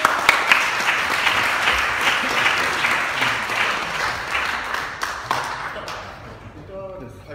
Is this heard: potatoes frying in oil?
no